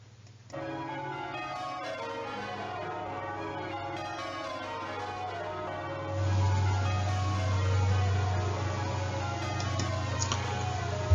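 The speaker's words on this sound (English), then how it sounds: "they're being rung in what we call rounds" A set of ten church bells rings in rounds, each bell striking in turn in an even, repeating sequence, resonant and continuous with overlapping hum.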